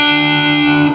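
Electric guitar playing a hammer-on lick through a flanger effect, a single sustained, bright, distorted note ringing loud and steady for about a second, with no voice.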